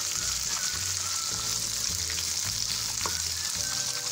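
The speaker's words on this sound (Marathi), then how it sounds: "दोन हिरव्या मिरच्या टोमॅटो तुकडे आपल्याला फक्त फ्राय करून घ्यायचं आहे थोडंसं." Two green chillies and tomato pieces fry in a pan for a chilli chana dish, giving a steady, close hiss and crackle with soft stirring scrapes and no voices.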